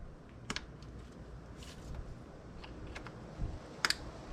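Sharp plastic click of an ignition coil pack connector snapped back into place on a Nissan Murano engine, a few quiet separate clicks with one brighter snap near the end, no talking.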